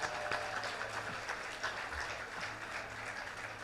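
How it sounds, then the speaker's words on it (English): Steady applause from a crowd at an elementary school commencement, a dense wash of clapping that holds evenly throughout with no voices on top. "let's give them a warm round of applause once again."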